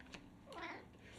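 A cat gives a short, quiet meow close by, a single brief call with a slight rise and fall.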